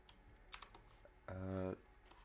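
Keys on a computer keyboard are typed while writing server script code, as a few scattered, soft clicks with a short steady tone partway through.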